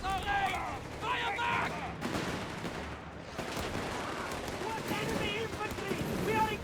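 Heavy gunfire pours onto an infantry rifle squad in the Company of Heroes 3 strategy game, a dense, continuous battle din of shots and blasts with a brief lull in the middle and a voice talking over it.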